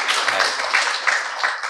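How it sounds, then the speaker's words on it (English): Audience applause at a spiritual lecture session on the Bhagavad Gita, a continuous close wash of many hands clapping with small rhythmic surges and no talking. "Give him an applause"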